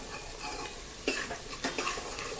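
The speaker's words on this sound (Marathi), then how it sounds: "असा छान कांदा परतून घ्यायचा" Onion sautéing with a little salt in a pan gives a continuous close sizzle, with a few louder stirring scrapes and utensil knocks against the pan.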